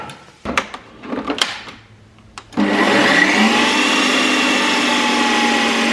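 A few light knocks and clatters, then a blender starts up loud and runs steadily, whirring hard as it spins a frozen mixture.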